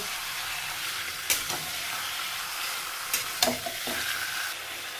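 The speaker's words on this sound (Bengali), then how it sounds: "এবার হাই ফ্লেমে চিকেনটাকে পেঁয়াজের সঙ্গে খুব ভালো করে কিন্তু ভেজে নেব।" Marinated chicken frying with onions on high flame, a continuous hiss of sizzling oil with a few sharp clinks and scrapes from stirring, close and alone without talk.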